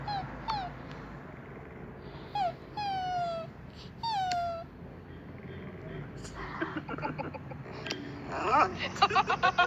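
A gentle pet dog whimpers in a string of high, falling whines that come in short bursts, followed by rustling and scuffling movement close by.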